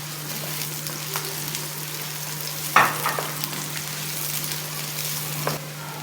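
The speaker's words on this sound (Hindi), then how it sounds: "और मैं अब इसमें प्याज डाल के, इसे ब्राउन नहीं करना है प्याज को, जस्ट सौते करना है।" Chopped onions sauté gently in a pan for bhindi masala, a soft steady sizzle over a low hum, broken by a sharp utensil knock and light stirring.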